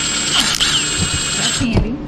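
A hand ratchet works on cylinder head bolts, giving rapid clicking pawl bursts and metallic clinks up close, with a brief voice in the background.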